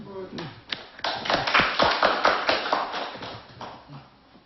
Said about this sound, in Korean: 우리 의장님 오신데 박수 한번 쳐주시죠.